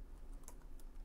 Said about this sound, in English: Let's type in that same data, Sally at testemail4.com